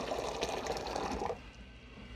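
Hot water pours from a hot water pot into a pour-over coffee filter, a close, steady liquid splash that fades after about a second and a half.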